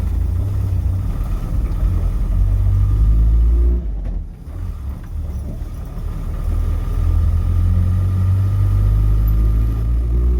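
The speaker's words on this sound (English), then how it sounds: "Traffic jam while someone gets out of their car." Car engine idling and rumbling in a traffic jam, a loud steady low drone that dips briefly around the middle, then resumes evenly.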